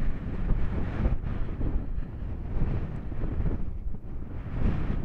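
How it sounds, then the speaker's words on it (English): Strong gusty wind blows across dry Mormon Lake near Flagstaff, Arizona, on a red flag day, a loud continuous low buffeting roar against the microphone that rises and falls without a break. "today is a red flag day, and it's stinking windy"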